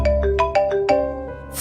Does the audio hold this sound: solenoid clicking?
no